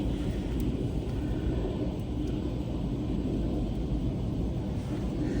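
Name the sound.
airplane engines throttling up for takeoff in wind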